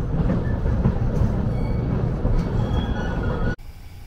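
A freight train rumbles past close by, a steady low roar with faint wheel clatter, cutting off abruptly near the end.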